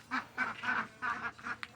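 Ducks kept as pet birds quack nearby in a quick series of five or six nasal calls, clear and fairly close, with no talking over them.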